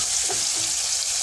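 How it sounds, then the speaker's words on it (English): Onions browning in hot oil in a pot while a Nilotic-style tilapia curry is made, giving a steady, close hiss of sizzling that holds even across the whole moment with no voices. "In my oil, I'm going to put the onion, and let them brown."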